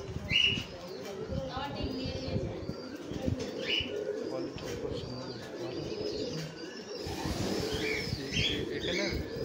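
Several pigeons, including single-crested and large pink satinette birds, coo steadily from a farm loft with faint chirps above, a busy, continuous flock sound that runs under distant talk.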